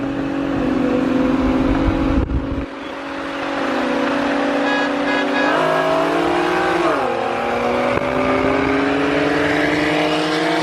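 An Infiniti Q50 with a 3.0 turbo engine races and accelerates, its loud engine droning with rising and shifting pitch, close and continuous for the whole stretch, with no voices.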